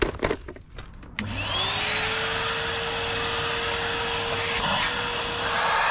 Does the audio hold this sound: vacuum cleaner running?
yes